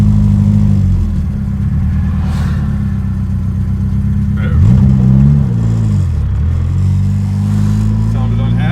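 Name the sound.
1955 VW Beetle hot rod engine revving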